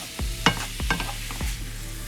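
Meat and vegetables being stirred in a hot pan, with a few scraping strokes over a steady sizzle, close and moderately loud.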